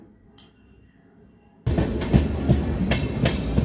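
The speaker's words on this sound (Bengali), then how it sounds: "আজকের ব্লগটা আমার শুধু ট্রেন জার্নি" Train running on rails during a passenger journey, a loud steady rumble starting abruptly after a quiet opening, with rhythmic clattering wheel beats heard from inside the carriage.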